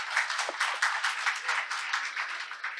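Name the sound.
audience applause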